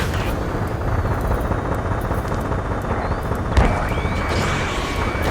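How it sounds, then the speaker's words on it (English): Ace Combat 7 video game battle in a city under martial law: a dense, loud roar of jet engines with scattered gunfire and a sharp burst midway, continuous and without talk. "Gunfire and the roar of jets echoing through the streets"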